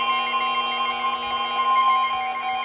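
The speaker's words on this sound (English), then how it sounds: "Beep like crazy. I dare you." An emergency alert system attention signal for a National Weather Service flash flood warning sounds as a loud, steady electronic alarm tone. It holds unbroken for the whole stretch, alone with no voice over it.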